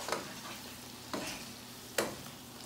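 Garlic shrimp stirred in a frying pan, three distinct scraping strokes of a utensil over a low, steady sizzle, with short gaps between each stir.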